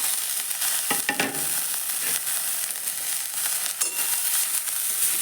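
Chopped cabbage with ginger-garlic paste sizzles in a pan as it is stirred, a steady frying hiss broken by a few sharp utensil scrapes and clacks near the start and again later, with no speech.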